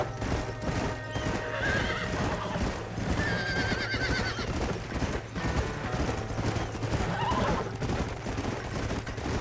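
Horses in the Red Dead Redemption Remastered game on PS5 whinny and neigh several times over steady clip-clopping hooves and low ambient rumble, with no talking.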